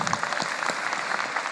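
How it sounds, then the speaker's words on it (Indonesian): Crowd applause at an Indonesian election and democracy talk event, a brief, even wash of many hands clapping at moderate level, without voices over it. "Tepuk tangan untuk Indonesia."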